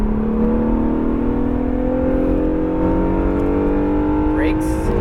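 An Acura NSX engine accelerating hard on a lap, a loud, sustained rising whine and roar as revs climb steadily, heard from inside the car at close range with a brief high chirp near the end.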